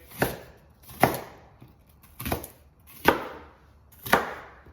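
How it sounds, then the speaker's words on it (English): Five evenly spaced knife strokes chop through onion on a board, each a crisp thud about a second apart, close and clear with no talking. "Like your onion, you can just chop them any kind of way."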